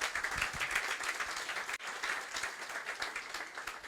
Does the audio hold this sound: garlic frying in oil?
no